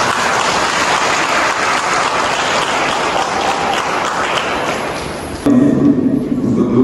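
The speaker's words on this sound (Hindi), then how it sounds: "आइए हम ताली बजाते हैं" Wedding guests at a Christian wedding clap in steady, dense applause that fills most of the stretch, then it breaks off into a louder, muffled thumping and a few murmurs near the end.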